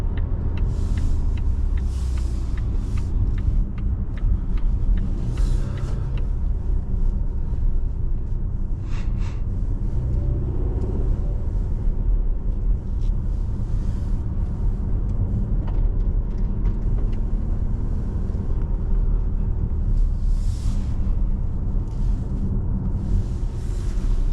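A 2024 Volvo XC60 T8 Recharge Core plug-in hybrid is driven in power mode, with a steady, loud interior rumble of engine and road noise that holds unbroken from start to finish, with no talking.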